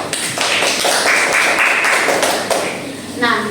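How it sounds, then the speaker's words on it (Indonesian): Elementary students in a classroom clap together for a classmate, a brief, close burst of rapid hand claps with a teacher's voice cutting in at the end. "Tepuk tangan dulu untuk Putri."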